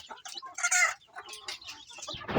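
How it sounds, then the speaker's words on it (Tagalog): Chicks in a wooden-and-screen brooding cage that also holds eggs, giving a burst of close, high chirping and clucking, followed by softer scattered peeps and a rustling bump at the end. "as you can see may mga sisiw na at may mga egg pa"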